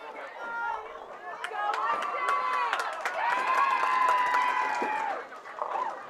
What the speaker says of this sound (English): Then you hear the famous strike chant from the boy fans in the crowd.